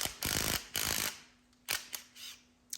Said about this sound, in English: So we'll get our impact driver with 13mm socket.